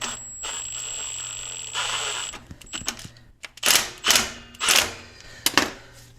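Wrench work on the lift bolts of a 3rd gen Toyota 4Runner suspension during a 2-inch lift install: a few sharp metallic ratcheting bursts, close and moderately loud, with a steady tone and a faint hum beneath.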